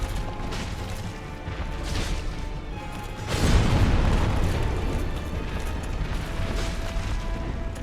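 A boss in the Dark Souls video game unleashes a heavy explosion attack, a deep booming blast that rises suddenly midway and rumbles off amid clanking game sounds, with no talking.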